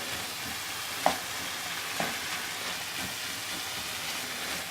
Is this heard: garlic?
yes